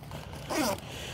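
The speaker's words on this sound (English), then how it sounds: "you can just unzip and reach down and access whatever you've got in that slip pocket" Single quick zip as a zipper on the inner slip pocket of an HPG Umlindi backpack is pulled open, a close, short rasping scrape lasting about a quarter second.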